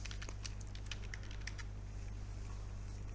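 Light, quick keystrokes on a computer keyboard tap out code in short irregular bursts, faint over a low steady hum.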